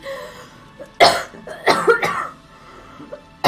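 A voice acts out violent coughing while reading a story aloud: several harsh, forceful coughs in close bursts with short pauses between them, loud and near.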